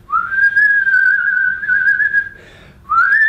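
A person whistles a long, steady tone held for about two seconds, pauses briefly, then starts another rising whistle, clear and close.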